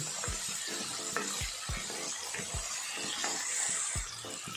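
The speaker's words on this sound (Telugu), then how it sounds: "ఇలా దుంపలు వేసుకున్నాక కాస్త గోల్డెన్ కలర్లో రెండు వేసుకునేంత వరకు వేయించుకోవాలి" Potatoes fry in oil in a pan for aloo kurma, a steady sizzle broken by regular scraping knocks as they are stirred, close and moderately quiet.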